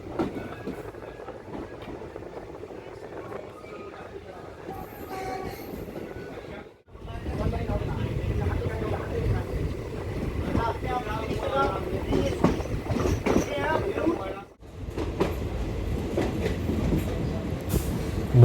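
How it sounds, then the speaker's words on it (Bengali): Sealdah-Jangipur Express rolling near Mahipal Road station, a loud steady rumble of carriage wheels with clicking rail joints and brief dips as it passes structures, heard from inside the moving train. "ট্রেন এসে পৌঁছলো মহিপাল রোড স্টেশন"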